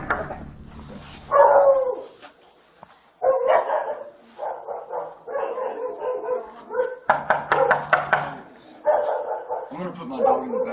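A dog barks indoors during a police visit, sharp yips and barks scattered through the passage, mixed in with close, loud talking from several people.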